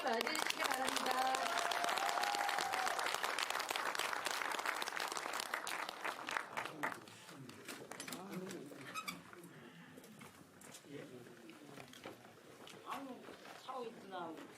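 An audience at a memorial concert and talk event applauds loudly for several seconds, the clapping thinning out and fading as voices and chatter take over.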